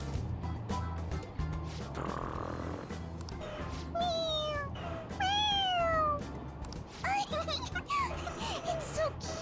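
Several drawn-out meows from a cat in the Persona 5 video game, clear and close, rising and falling in pitch over a low steady background hum.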